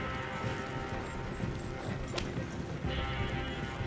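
Horse hooves clip-clop on the ground in the Red Dead Redemption 2 video game, a steady trotting rhythm under a constant background din, moderately loud and close, with no clear talking.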